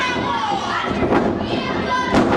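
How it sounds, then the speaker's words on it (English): A wrestler crashes back first onto a steel chair during an independent wrestling match, a dull thud or two rising from crowd noise and a commentator's voice. "Oh, back first into that steel chair."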